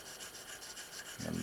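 Gun trigger, fitted in the gun and packed with fine valve grinding compound, worked back and forth: a faint, close gritty rasp that swells into a louder rubbing scrape near the end, with no talking.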